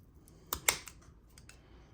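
Grafting shears cutting through a stick give two sharp, close snips in quick succession, followed by a few fainter clicks in an otherwise quiet space.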